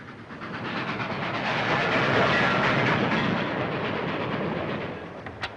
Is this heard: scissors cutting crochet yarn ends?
no